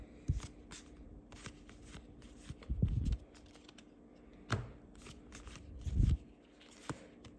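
Pull-tab Magic: The Gathering Brothers' War booster packs being opened, with quiet foil crinkles, rustles and a few soft tearing pulls in short separate bursts close to the mic.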